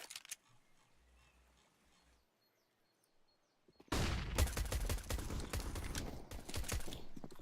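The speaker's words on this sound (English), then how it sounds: "A lot of pistols going off." Pistols fire in a video game: after a few quiet seconds, a sudden loud burst of dense, rapid overlapping shots runs on without pause.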